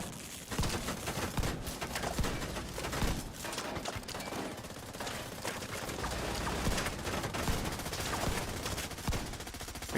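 Rapid, dense bursts of gunfire from shotguns in The Division 2, loud and near, with overlapping blasts and continuous in-game combat noise and no pause across the whole stretch.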